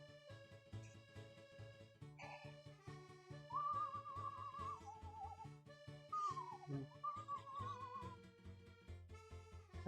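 A person whistles a wavering melody in short runs and longer held notes, close and clear, over steady soft background music with plucked tones.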